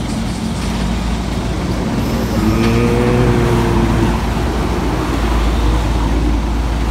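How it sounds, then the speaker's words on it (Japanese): A Toyota Hiace van is loaded onto a tow truck, heard as a loud, continuous low engine rumble with a slight swell in the middle. "葵がハイエースをレッカー車に乗せています。"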